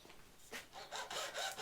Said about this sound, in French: moi je préfère le couper la scie à métaux pour que